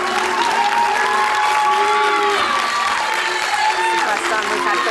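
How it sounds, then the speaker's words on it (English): Studio audience at an evictee interview on a reality television show giving a sustained crowd response, loud and dense, with tonal whistles or jeers running through it and no clear talking. "First time we've had booing in the studio"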